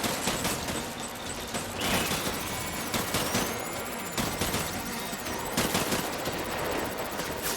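Rapid bursts of automatic gunfire in the video game Death Stranding, with dense volleys that crack repeatedly and overlap, plus a few sharper impacts between bursts.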